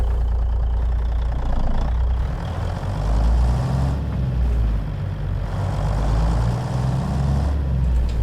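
A truck engine idles in American Truck Simulator with a loud, steady low rumble and hum that shifts only slightly in tone, with no voices.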